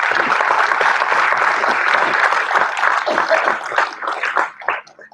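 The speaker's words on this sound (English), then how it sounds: "a big round of applause" At a sustainable fashion panel event, an audience gives the panelists a round of applause: a dense burst of many hands clapping that thins out and fades toward the end, leaving a few scattered claps.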